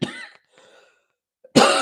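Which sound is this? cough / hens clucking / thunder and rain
cough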